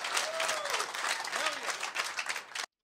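A comedy club audience in Dallas breaks into loud applause and cheering, a dense continuous wash of clapping with a few whoops rising above it, cut off abruptly at the end.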